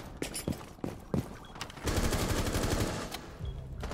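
Rapid automatic gunfire from the Rainbow Six Siege match on the Consulate map, a burst of clustered shots followed by a sustained dense stretch of firing at moderate loudness.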